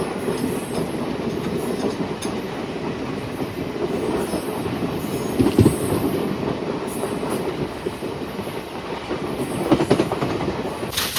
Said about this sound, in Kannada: ಮಧುರೈಯಿಂದ ಕಾನ್ಪುರಿಗೆ ಹೋಗೋ ಟ್ರೈನ್ನ ನಾವು ಇವಾಗ ಓವರ್ಟೇಕ್ ಮಾಡ್ತಾ ಇದ್ದೀವಿ ನೋಡಿ